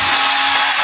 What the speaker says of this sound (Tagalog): Ilalagay ko po sa aking drill.